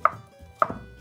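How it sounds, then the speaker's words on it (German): Zucchini being diced into small hazelnut-sized cubes with a knife on a cutting board, two crisp close chops about half a second apart. "Hier schneide ich die Würfel auch haselnuss groß ungefähr."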